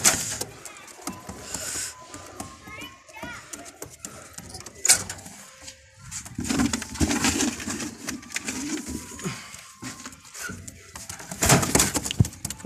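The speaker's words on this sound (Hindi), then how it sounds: "ये फिरोजपुरी पेड़ है, चेक करो भजन कबूतर, चेक करो कबूतर की क्वालिटी" Ferozpuri breeder pigeons cooing in a loft, low throaty coos repeating under rustling and handling noise, with a person talking nearby at times.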